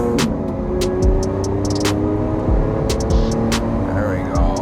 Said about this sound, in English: For a factory exhaust system, it actually sounds sick.